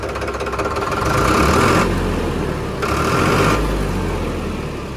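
Close, loud diesel idle of a 2021 Farmtrac 60 EPI tractor, a steady knocking chug that swells twice in brief revs before settling back, with no voices.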